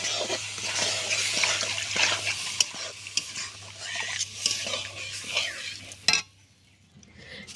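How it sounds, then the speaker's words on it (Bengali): Fried semolina being stirred with boiled cow's milk in a pan, giving a steady wet scraping and soft bubbling with a few utensil knocks against the pan, close and continuous until it drops away near the end. "নাড়তে থাকবো।"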